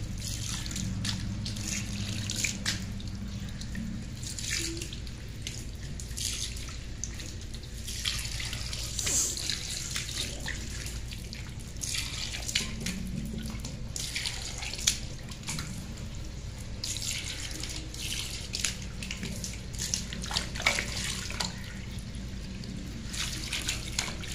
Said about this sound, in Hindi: मैं इसको पानी सादा पानी के साथ साफ पानी के साथ धो रही हूँ